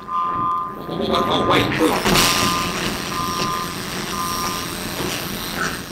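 A garbage truck rumbles with steady reversing beeps repeating in an even rhythm, mechanical clatter underneath, while a voice speaks briefly over the top.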